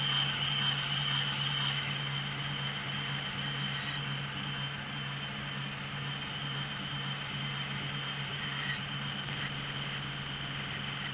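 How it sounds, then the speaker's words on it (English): A hand file rasps steadily across the corners of a Damascus steel knife made from guitar string, chamfering the edges, a continuous close scraping with slight shifts in stroke intensity and no talking. "we just have to chamfer these corners as well"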